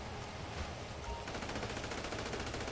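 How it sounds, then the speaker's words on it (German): Dense, rapid gunfire crackles continuously through a GTA V Online firefight, a sustained barrage with no clear pause and no voices, rather than one isolated sniper rifle report. "dieses Sniper hab ich gehört"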